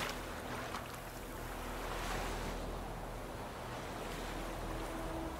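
Water waves in The Witcher 3, a steady broadband wash of surf and gentle lapping with a soft wind-like hiss, continuous and even at moderate level, with no voices.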